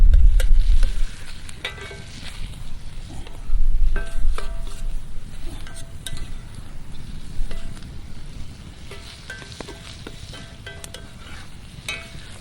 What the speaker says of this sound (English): we're just going to mix that all up together, stir it around